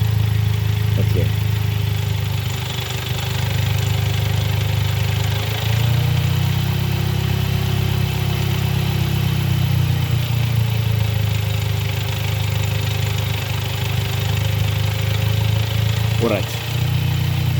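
DSG7 dual-clutch gearbox spinning in fourth gear with its mechatronics unit removed, a steady droning whir held for the whole stretch, with a brief spoken remark.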